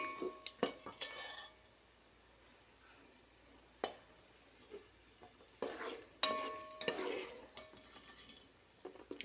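Masala leaves and spices frying in a pan for coconut rice and aloo kurma, a quiet sizzle with scattered stirring scrapes and clinks of a utensil against the pan.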